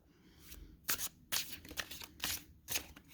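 Tarot cards from a Modern Hue deck are shuffled overhand, several quick papery riffling bursts in an uneven rhythm, close and fairly soft, with short pauses between each pass and no talking.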